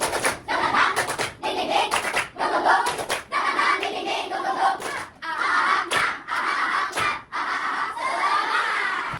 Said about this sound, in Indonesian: kita tepuk semangat terlebih dahulu. Oke, tepuk semangat.